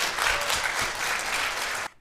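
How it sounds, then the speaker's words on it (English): An audience applauds in a dense, steady wash of clapping that stays even, then cuts off abruptly near the end. "resounding with the applause from the audience"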